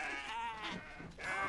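A herd of goats bleats in the video game Kenshi, overlapping nasal cries that fill the short stretch, loud and close with no talking.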